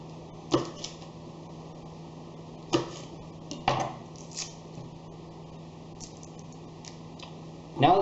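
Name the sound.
knife chopping garlic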